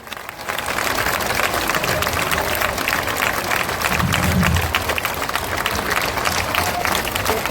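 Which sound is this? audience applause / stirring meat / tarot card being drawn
audience applause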